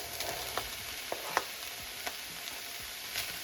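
Red peppers frying in a pan for chili con carne, giving a soft, steady sizzle with scattered faint pops and light clicks of stirring.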